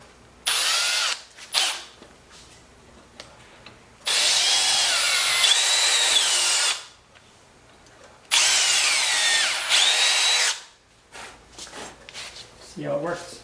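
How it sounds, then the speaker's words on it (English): A power drill boring holes in wood with a larger bit, a short burst followed by two long whining runs separated by pauses, close and loud, with brief speech near the end. "We'll drill out these top ones with a bigger bit."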